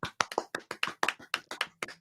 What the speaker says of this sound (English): We'll always give a little clap for our brand new YouTube members.